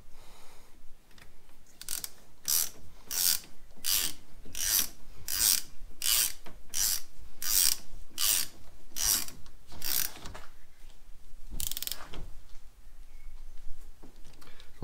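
A hand ratchet clicks in a regular run of about a dozen strokes while tightening the brake caliper bolts on a Lotus Elise, close and crisp, followed by one final stroke after a pause.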